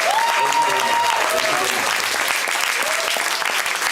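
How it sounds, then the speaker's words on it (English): An audience at the CEI Mexico 2025 opening ceremony breaks into sustained applause, a thick steady roar of many hands with a few voices calling out on top. "a big applause for everybody here that participated"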